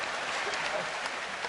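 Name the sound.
audience applause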